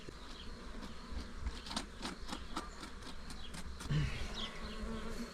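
Honey bees buzz in a steady, droning swarm close by, with a few louder passes and faint clicks over a low background rumble.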